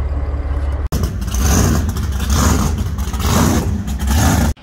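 A race car drives into a dyno shop with a loud, rumbling engine that rises and falls as it creeps forward, close and rough throughout.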